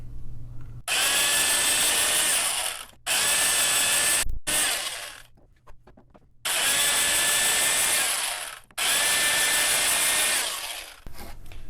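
A vintage Fein ASG 658 power tapper cuts threads in 1/4 inch 6061 aluminum, running in four loud sustained bursts of steady high motor whine, each one separated by a short pause with a quieter stretch in the middle.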